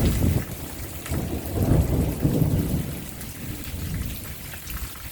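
An arriving storm at night, heard from outdoors: steady, fairly loud rain hiss with deep rolling thunder swelling and fading underneath, and no voices.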